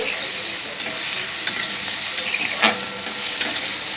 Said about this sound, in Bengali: আমি ছোটো ছোটো করে পেঁয়াজগুলো কুচিয়ে নিয়েছি এগুলো একটু ভেজে নিচ্ছি